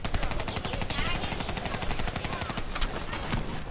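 Dense, continuous automatic gunfire from the video game Call of Duty Black Ops III, rapid bursts packed together and loud throughout, with a voice faintly mixed in underneath.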